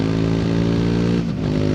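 A 2024 Triumph Speed 400 single-cylinder engine drones loudly and steadily at high revs on the road, buzzy and sustained, then dips briefly near the end before picking up again.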